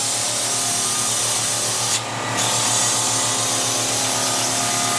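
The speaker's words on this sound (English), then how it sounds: "Again, you're listening to the pump." The internal pump of a no-touch cleaning system hums steadily while priming with a low, even drone, broken midway by a short burst of hissing air before the motor settles back.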